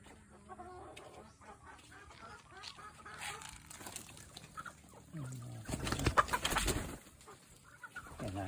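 Backyard ducks and chickens being fed cluck and quack at close range, with sporadic calls rising into a louder flurry of activity near the end.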